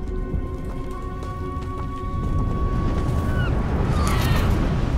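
Waterfall in the video game Hogwarts Legacy near a coastal area: a loud, steady broadband rush of falling water with a faint tonal hum, building slightly toward the end.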